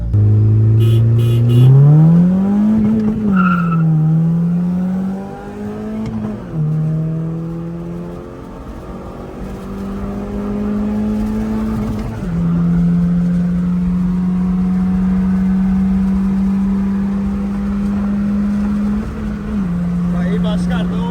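A Toyota with a 3SGE engine and a Honda Civic X race on a road, their engines droning loud and close with repeated revving surges, and people talk over the steady roar.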